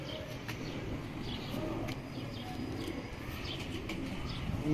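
Pigeons of a bred flying bloodline coo softly in a breeder's loft, low murmuring calls running steadily throughout with faint chirps and a busy background.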